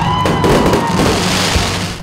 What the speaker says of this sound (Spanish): El cielo sobre el monumento al divino Salvador del mundo también fue iluminado con fuegos pirotécnicos